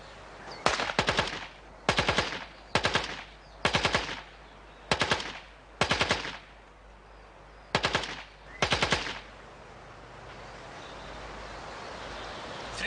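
Gunfire on a shooting range aimed at a target: eight sharp, evenly spaced bursts of several rapid shots each, loud and close, then quiet outdoor ambience.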